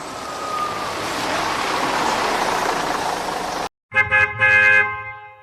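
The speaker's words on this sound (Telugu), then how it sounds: "పల్లె వెలుగు బస్సు హారన్ కొడుతూ వచ్చి ఆగింది" After a few seconds of broad road noise, a rural bus horn blares in several short honks close by as it arrives at a bus stand.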